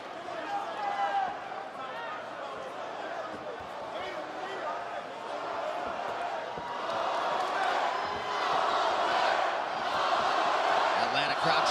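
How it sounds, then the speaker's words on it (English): Arena crowd in Atlanta roaring and cheering for Max Holloway during the fifth round of a UFC bout against Dustin Poirier, a continuous swell of noise rising louder toward the end under a commentator's voice. "Atlanta crowd trying to get behind Max Holloway here"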